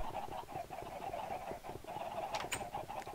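Chickens clucking on a chicken farm in Minecraft, a dense overlapping chorus of soft clucks and coos from many birds at once, steady and moderately close, with no voices.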